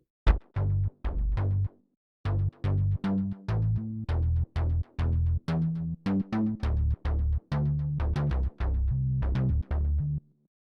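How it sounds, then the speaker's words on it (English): Short, punchy GarageBand keyboard synth bass notes play in a bouncy rhythmic pattern, each note starting sharply and cutting off cleanly, with brief gaps between phrases. "If you pick a keyboard and then choose a bass, it might sound like this."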